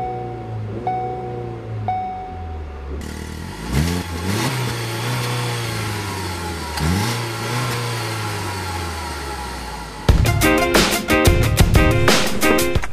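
A Ford Focus car engine idles, then revs up and down in several rising sweeps before a loud, rattling acceleration near the end; no one speaks.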